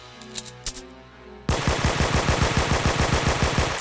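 Automatic gunfire in the Roblox game Brookhaven, a sudden loud rapid burst of evenly spaced shots that runs steadily to the end, preceded by a few softer clicks and taps.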